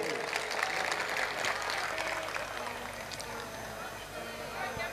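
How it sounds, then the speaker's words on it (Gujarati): An audience at a Gujarati comedy and devotional gathering breaks into sustained applause, a dense wash of many hands clapping that continues steadily and slowly eases, with voices mixed in. "એકવાર બાવાશ્રીને પણ જોરદાર તાળીઓના ગગડાટથી વધાવીએ"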